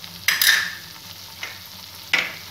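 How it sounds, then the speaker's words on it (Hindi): Turmeric and red chilli powder roast in a pan with oil for shahi paneer, giving a low, soft sizzle. Three scraping stirs cut sharply through it, the loudest at the start. No one speaks. "अब इन तीनों चीज़ों को हम अच्छे से भून लेंगे।"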